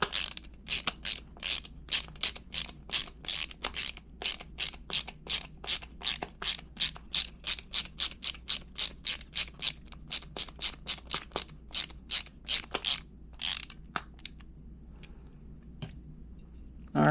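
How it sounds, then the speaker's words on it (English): A screw is turned in quick repeated ratcheting clicks while an industrial outlet cover is fitted onto a four-square box, a steady close run of sharp mechanical ticks that slows and stops near the end, with no talk. "I like to hold it in place with my index finger while I actually turn the screw"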